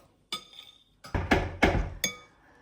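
A spoon clinks against a bowl while banana and cocoa batter is mixed, giving a few sharp, close taps and scrapes with short pauses between them.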